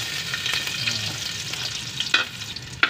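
Garlic sizzles steadily in a hot pan, a bright continuous frying hiss broken by a few sharp stirring clicks and scrapes, with no voices.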